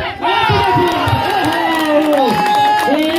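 Crowd at a village kabaddi match in Punjab cheering and shouting after a super raid, with a loud continuous roar of voices and some clapping mixed in, a few raised shouts standing out.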